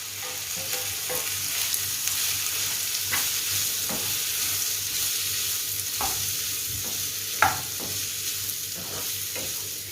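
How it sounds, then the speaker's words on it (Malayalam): Marinated chicken sausage fries in hot cooking oil, a steady crackling sizzle with occasional soft scrapes and stirring taps from a utensil, close and continuous. "ഓയിൽ ചൂടായി വരുമ്പോൾ നമുക്കതിലേക്ക് മാരിനേറ്റ് ചെയ്ത് വെച്ചിരിക്കുന്ന ചിക്കൻ സോസേജ് നമുക്ക് ചേർത്ത് കൊടുക്കാം"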